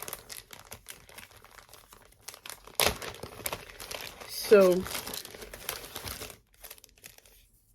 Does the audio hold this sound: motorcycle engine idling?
no